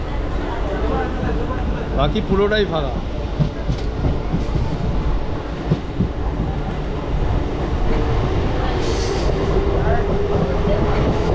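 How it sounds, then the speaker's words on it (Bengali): An Antyodaya Express train rumbles steadily along the tracks, loud and close, with rattling wheels and brief metallic squeals, while a voice talks over the noise. "আর ট্রেনও চলছে দুরন্ত গতিতে।"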